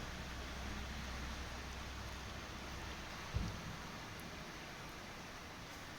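Steady morning rain falls in Medjugorje, an even hiss of drops that stays constant throughout, with one soft thump midway.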